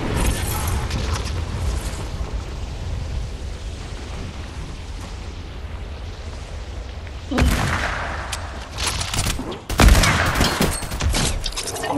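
Gunfire in the Fortnite video game, with sustained rumbling battle noise and a couple of sharp, loud bursts near the end, heard without speech.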